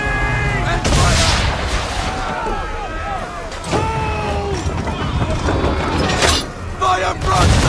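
Ship cannons fire a broadside in Assassin's Creed III, with several heavy booming shots in irregular succession amid naval battle noise, creaking rigging and ratcheting mechanisms, while voices shout orders over the din.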